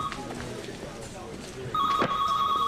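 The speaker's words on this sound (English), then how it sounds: "Is that my phone?" An office telephone rings in a 1998 soap opera scene, its bell trilling briefly at the start and again loudly near the end, with a voice speaking over the quieter middle.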